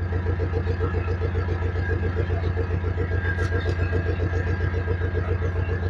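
A jeep engine idles while warming up, a steady close rumble with an even, rapid pulsing rhythm that holds unchanged throughout.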